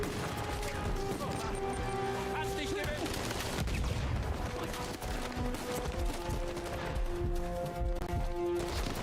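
Shotgun fire in the video game Uncharted 4, with rapid gunfire bursts over a steady game music score throughout.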